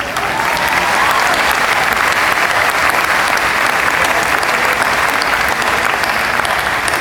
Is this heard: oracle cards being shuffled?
no